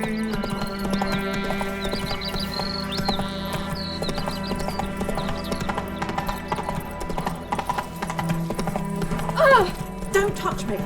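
Roach, Geralt's horse in The Witcher 3, clip-clops along at a steady trot with a brief whinny near the end, under game music and a voice.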